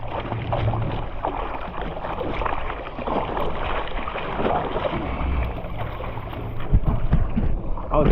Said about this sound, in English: See how fast this moves when I'm paddling reasonably at a reasonable rate.